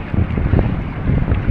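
Strong seasonal amihan wind at a coastal fishing spot in the Philippines, heard as a loud, steady, low buffeting roar of gusts hitting the microphone, with no talk.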